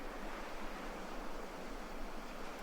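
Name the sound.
ocean waves and surf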